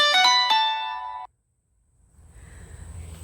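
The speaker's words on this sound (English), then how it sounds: "That was my doorbell." A bright electronic chime rings a few quick tones, then cuts off into silence before faint outdoor background noise rises.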